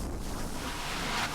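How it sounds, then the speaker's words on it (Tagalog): Strong typhoon wind in La Union, Philippines roars steadily against the microphone, a dense rushing noise with no voices. "Yung hangin niya guys, hindi na natigil."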